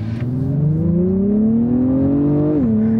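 An Acura TLX accelerating on a bumpy road, its engine note rising smoothly in pitch for a couple of seconds, then dipping briefly at a gear change before steadying, loud and close with no talk.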